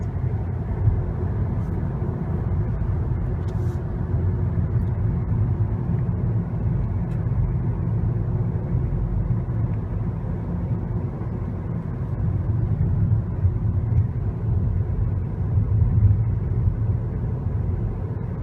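A car driving along Buena Vista Drive near Disney Springs gives a steady low road and engine rumble that lasts throughout, heard from inside the vehicle with faint occasional ticks and no talking.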